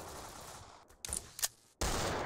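Gunfire in the Roblox shooter Arsenal: a few sharp shots ring out in a short burst over a constant game background.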